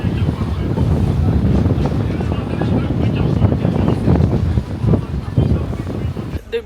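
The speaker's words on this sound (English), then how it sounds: "The breeze from the ocean." A strong ocean breeze in Jamaica buffets the microphone in a steady, loud rumble that continues for the whole stretch, with a voice faintly mixed into the wind.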